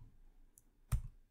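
A skeleton key unlocks a door in the MS-DOS adventure game The Colonel's Bequest, heard as one short, quiet click against near silence.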